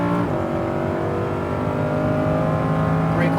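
A Lamborghini Huracan on a racetrack, its engine loud and close, dropping briefly then climbing steadily as it accelerates, with a faint squeal near the end and a voice speaking over it.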